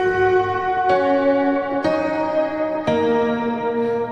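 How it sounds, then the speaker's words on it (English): A virtual piano instrument plays bell-like tones from its middle range, four ringing strikes in turn, each with a bright attack and a long shimmering decay that overlaps the next. "the bells, they only occur in the middle section of the piano"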